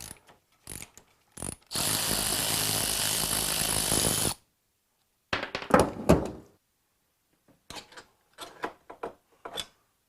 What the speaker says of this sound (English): I've got a deep 14mm socket.